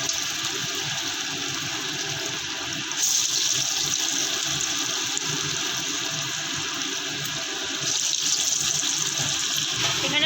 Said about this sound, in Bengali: তেলের মধ্যে বড়াগুলো ছেড়ে দেওয়া হচ্ছে।